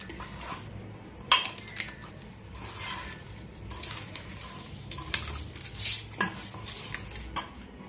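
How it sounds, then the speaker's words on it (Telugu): Oil is stirred into the ingredients for chapala pulusu, a fish curry: quiet, close scraping and clinking of a utensil against a dish in irregular bursts. "వేసి బాగా కలుపుకుందాం."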